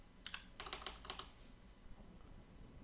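A burst of quick keystrokes on a computer keyboard, a few rapid clustered clicks close and quiet, then a pause with faint room noise.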